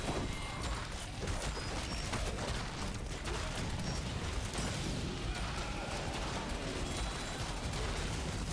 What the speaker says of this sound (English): Toxified enemies now generate larger explosions on death.